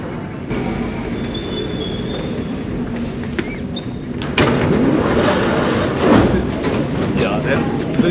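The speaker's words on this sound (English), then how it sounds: "Now from here we have to take the metro to Little India." Singapore metro train: a steady, close rumble of carriages on rails with a few faint chimes and door sounds, swelling louder midway, while voices murmur indistinctly in the background.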